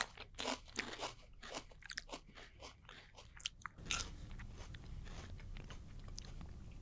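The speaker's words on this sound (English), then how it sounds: "That's a loud crunch." Someone takes several loud, sharp bites into a raw, crunchy tuber, giving a rapid run of crisp crunches at close range, followed by quieter chewing.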